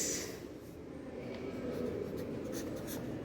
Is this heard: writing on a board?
yes